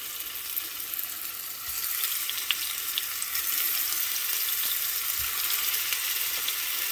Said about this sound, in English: Sounds like it's ready, as you can hear.